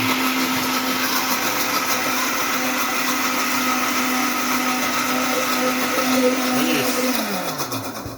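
A blender whirs steadily at high speed making aioli as oil is added, loud and close, its pitch shifting slightly as it thickens before winding down at the end.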